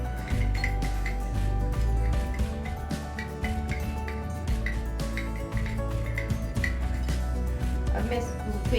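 A spoon clinks and taps repeatedly against a container while stirring two spoons of sugar into milk, light rhythmic chinks over a low steady hum and background noise.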